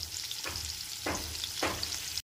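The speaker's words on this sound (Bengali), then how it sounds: "পনিরগুলো একটু এপিট উপিট করে লাল হয়ে গেলে পরেই পনিরগুলোকে তুলে নিতে হবে।" Paneer pieces frying in hot oil give a steady close sizzle, with three short scraping strokes as they are turned.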